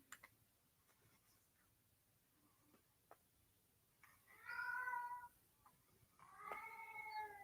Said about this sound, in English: That's his quiet meow, and he's downstairs.